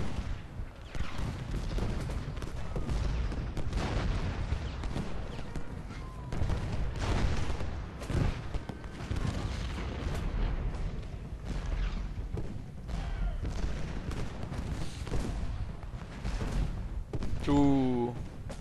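Musket volleys and artillery fire in the Civil War strategy game Ultimate General: Gettysburg rumble as dense, continuous bursts of crackling shots and deep booms, with a voice talking over the battle.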